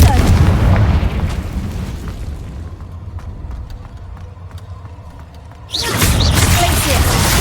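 A Confringo fire spell in the Hogwarts Legacy video game goes off in loud, booming blasts with rumbling bursts that fade into a quieter stretch before another heavy explosion surges back in; a voice is heard amid the action.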